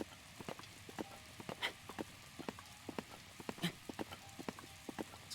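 Rain falls in the video game Breath of the Wild, a faint patter of irregular drops and taps landing on a surface, with no talk.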